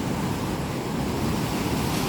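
Ocean surf rushes onto the shore in a steady, loud wash of noise, mixed with wind buffeting the microphone, with no clear break between waves across the short stretch.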